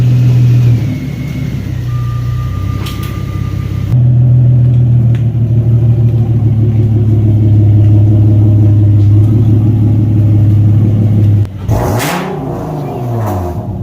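A loud Infiniti G37 engine revs up, holds a roaring high idle, then drops off with a sharp burst and another rev near the end.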